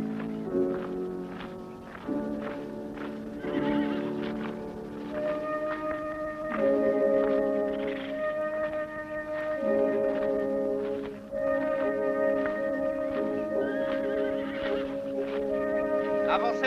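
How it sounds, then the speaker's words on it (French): Horses whinny repeatedly in a film scene, with several loud, overlapping neighs forming a dense, continuous chorus against steady background noise. "Vous allez faire peur à nos chevaux."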